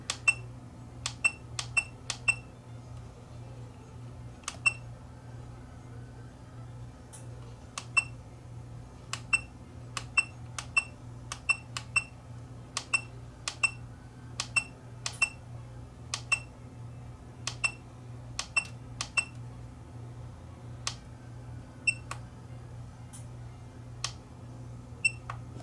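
A DOCREATE TK 10A portable battery spot welder chirps with short, sharp beeps as its settings are keyed in, irregular clusters of clicks and beeps over a low, constant hum.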